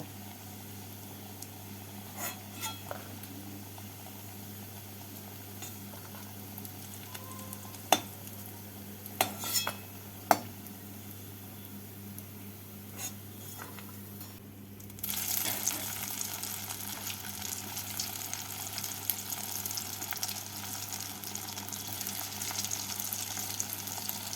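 Prawn dhoka cakes fry in oil in a kadai, giving a faint, steady sizzling hiss with occasional clinks. The hiss grows louder and brighter for the last nine seconds, with no one talking.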